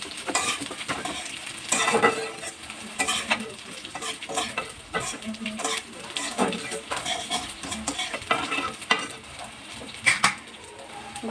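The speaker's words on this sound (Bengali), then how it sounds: "গুলি একটু নেড়ে চেড়ে খুব সুন্দর করে ভেজে নেব।" Cumin seeds and a small bay leaf fry in hot oil, giving a steady close sizzle broken by repeated scraping and clinking of a spoon stirring the pan.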